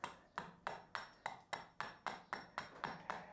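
An axe chopping wood while a spoon blank is carved, striking about thirteen times in a quick, even rhythm, each blow a sharp close knock.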